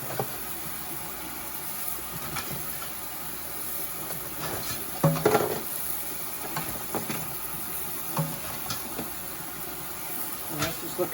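A giant red rock crab boils in a pot while being stirred, producing a low bubbling and churning under intermittent talk, with sharper splashes and knocks breaking through now and then.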